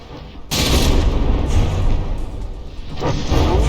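Heavy battleship gunfire in the naval combat game From the Depths, with Puget Sound trading shots against Claymore: a sudden loud boom opens into a sustained rumbling roar of cannon fire, with a second burst near the end.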